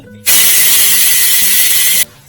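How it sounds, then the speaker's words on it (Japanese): A small power drill bores a pilot hole for a homemade spindle built from 100-yen shop parts, one loud steady whine lasting about two seconds before cutting off abruptly. "先に下穴を開けて、"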